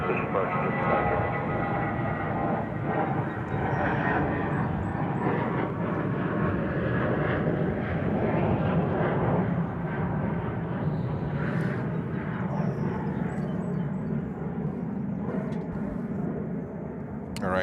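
A Frontier airliner takes off from runway 13 right at JFK, a loud, steady jet roar that holds for the whole stretch with little change in level.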